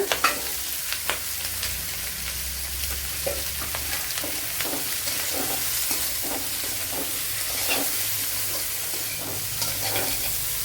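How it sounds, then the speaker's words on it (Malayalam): Chopped snake gourd fries in a pan, a steady sizzle with scraping stirs and soft clicks of a spoon, the sizzle swelling and settling throughout with no talk. "ഇതിലേക്ക് ഇനി അരിഞ്ഞു വെച്ചിരിക്കുന്ന പടവലങ്ങ ഇട്ട് കൊടുക്കുക."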